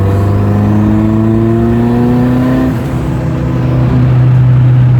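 Turbocharged Hyundai Tiburon engine revving steadily, loud and close, its harmonic drone rising in pitch through the first half, dipping briefly, then holding high again, with no talk over it.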